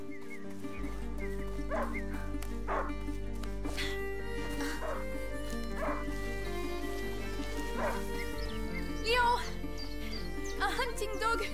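A hunting dog in A Plague Tale: Innocence gives scattered barks, yips and whimpers at moderate distance, over a steady musical drone with voices talking in the scene.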